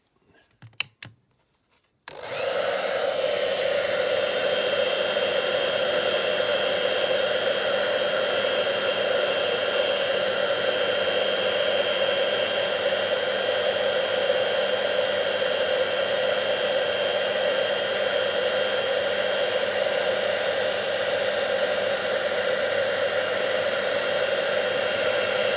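A hair dryer or heat blower runs steadily and loudly at close range, warming a die-cast Boeing 727 model in a garage, after brief clicks and handling noise at the start.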